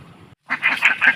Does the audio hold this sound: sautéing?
no